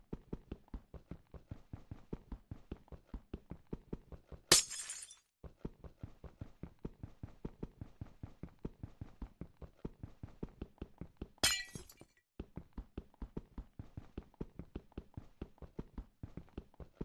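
Minecraft glass blocks shattering, two crisp breaking crashes several seconds apart, over a steady rapid ticking of footsteps or block tapping that runs throughout.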